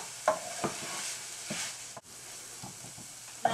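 Tomato paste is stirred into ground turkey sizzling in a pan, a soft steady fry with a few scraping stirs and light knocks, close and quiet, no talk.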